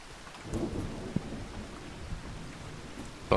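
Steady rainfall with a low rumble of thunder in the Farming Simulator 25 video game, a continuous wash of rain with a few brief louder drops and no talking.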